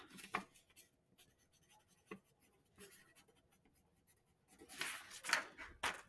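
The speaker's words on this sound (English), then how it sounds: "I'm writing myself a note about something else." A pen scratches out a handwritten note in short, faint strokes, with a few louder scribbling bursts near the end and no talking.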